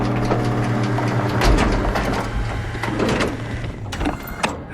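A machine in the video game SOMA loads an assembled bullet, giving off a loud, steady mechanical hum with low droning tones, clanks and clicks layered on top, ending in a sharp knock.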